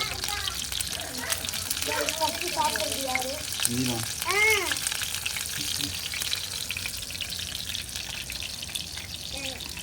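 Fish masala frying on a dosa tawa in a village setting, a steady close sizzle with scraping as the pieces are flipped, while several people talk over it.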